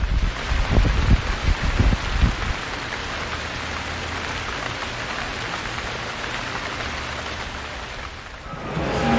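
Steady, heavy rain pours down on a sailboat at Put-in-Bay on Lake Erie, a continuous hiss with a few louder gusts or splashes near the start.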